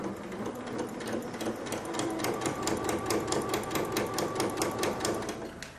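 Janome sewing machine stitching a mug rug, a steady close-up mechanical whir with a fast, even rapid ticking of the needle running continuously throughout.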